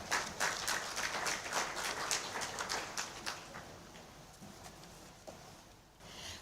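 Conference audience at a money summit claps in a steady burst of applause that gradually thins and fades toward the end.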